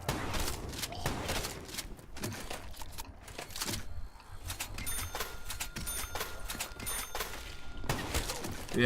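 Shotgun blasts in Black Ops 3 Zombies, fired solo, sound as sharp, loud, repeated shots at an irregular pace across the whole stretch, with dense crackling impacts between them.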